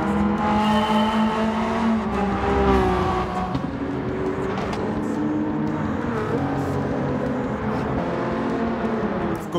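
Nissan R32 GT-R V-spec II '94 racing car engine in Gran Turismo 7, droning loud and steady with shifting revs throughout, with no talk over it.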